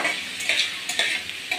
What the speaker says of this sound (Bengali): গোটা গরম মশলা যেগুলো আছে এগুলো একসাথে ভেজে নেব ভালো করে